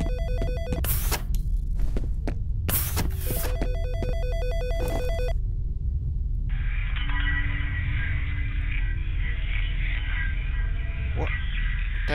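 An in-game telephone rings in the video game FEAR, bursts of a bright electronic bell repeating loudly for several seconds, then giving way to a steady buzzing hum.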